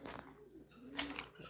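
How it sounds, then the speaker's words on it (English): Pigeons kept in a pen on a farm coo softly, a low, faint rolling call heard close by over quiet background noise, with no people talking. "And the other side we have the pigeons."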